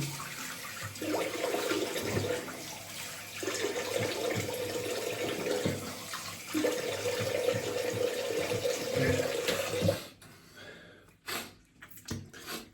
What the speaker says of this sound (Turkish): Yüzümü yıkıyorum.